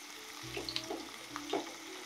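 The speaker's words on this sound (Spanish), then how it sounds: "Dejamos cocinando y empezamos a fritar nuestra fruta de pan." Breadfruit frying in a pan, a soft steady sizzle close by, with a few light scrapes and clinks from a spoon stirring it, no voices.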